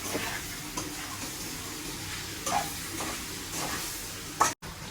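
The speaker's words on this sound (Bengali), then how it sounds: "তো বেগুন আলু দিয়ে আমি আরো কিছুক্ষণ কষিয়ে নিব।" Eggplant and potato stir-fried in a pan for a fish curry, with a soft steady sizzle and occasional stirring scrapes, and no talking.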